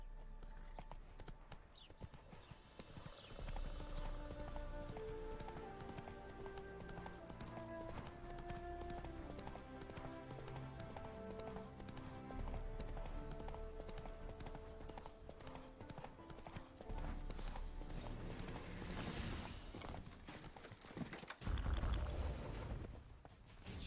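Horse hooves clip-clop steadily as a rider gallops in The Witcher video game, a continuous rhythmic beat running under a musical score that swells louder near the end.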